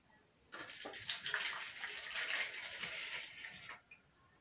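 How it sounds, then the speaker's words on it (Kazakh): Hot water pours steadily into a bowl for homemade pizza dough, a bright, continuous splashing stream that starts suddenly, runs about three seconds close by, then stops with a last small splash. "Бірінші ыстық су құямыз."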